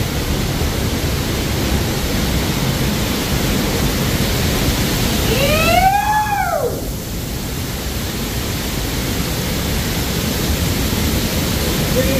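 Thoseghar waterfall roars with a broad, steady rush of falling water. Partway through, a brief tonal whistle-like sound sweeps over the constant roar.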